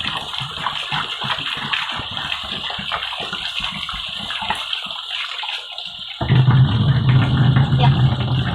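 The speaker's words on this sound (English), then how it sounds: "So let it fill, then we go." A plastic jerry can being filled with water at a natural river source in a bushy area, a steady rushing pour that grows louder and fuller partway through, with faint background noise.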